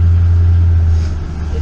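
Truck engine running hard as its scissor hoist tips, a loud steady low rumble close by that eases slightly toward the end, with a faulty hoist clutch not engaging properly.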